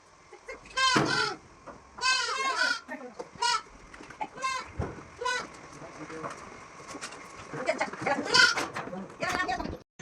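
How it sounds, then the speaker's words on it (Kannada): A flock of sheep bleating as they are let out to drink water in a dry rural village, many overlapping bleats near and far, with people talking amid the flock. "ನಮ್ಮನೆ ಎಲ್ಲ ಕುರಿ ಬಿಟ್ಟಿದ್ರು, ನೀರು ಕುಡಿಸ್ಕೊಂಡು ಹೋಗೋದಕ್ಕ"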